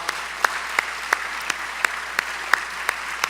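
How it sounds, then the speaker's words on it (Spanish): Rhythmic clapping at a spiritual conference, with sharp, evenly spaced claps about three per second. The claps are moderately faint over a low steady hum, with no speech. "Dale un aplauso al Señor, es para Él."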